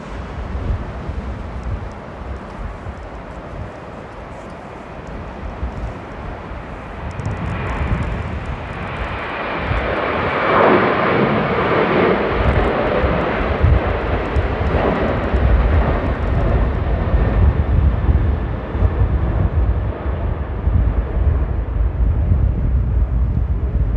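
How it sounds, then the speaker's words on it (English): A KLM Boeing 737 roars down runway 27 at Amsterdam Airport, its jet engine noise swelling from a distant rumble to a loud, sustained thunder amid rain and strong gusting wind. "KLM 737 thundering down runway 27 for takeoff"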